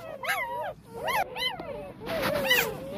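Newborn puppies of a pet dog whimper and yip in short, high, wavering cries, several overlapping bursts close to the microphone, with faint talk in the background.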